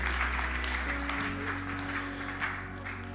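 A church congregation applauding for Jesus fills the room with steady, dense clapping over a low hum, unbroken from start to finish.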